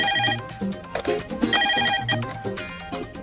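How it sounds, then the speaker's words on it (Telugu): A phone's melodic ringtone plays a repeating electronic tune at moderate volume, with faint background sounds and no one speaking. "ఫోన్ చూడు."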